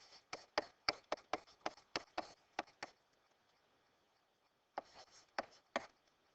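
Short, sharp taps and strokes on a classroom board come in a quick irregular burst, pause briefly, then return in a few more strokes, close and fairly quiet with no talking.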